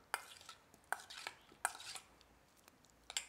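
A bowl of mixture with a little rum is stirred by hand in a few quiet, separate strokes, with light scraping clinks of the utensil against the bowl spaced about half a second apart.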